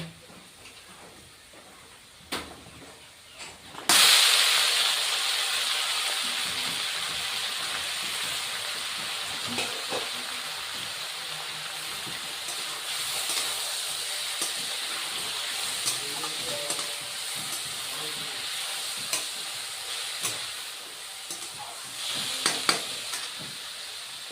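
Taro and onions fry in oil for a Bengali fish-head curry, a sudden loud sizzle as the taro is added settling into a steady, close hiss with occasional stirring clinks; no one talks.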